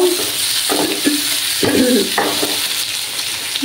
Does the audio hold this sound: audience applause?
no